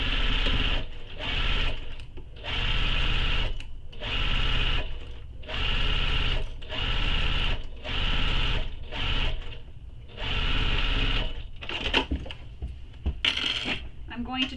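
A sewing machine stitches a tote bag seam in repeated runs of steady whirring, each burst stopping briefly before starting again, close by, with a few clicks near the end.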